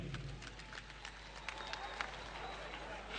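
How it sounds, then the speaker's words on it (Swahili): An audience at a Kenyan agribusiness event with the minister of agriculture claps as guests enter, a steady patter of applause from a crowd under a voice on a public address system. "Tuwapigie makofi wakiingia."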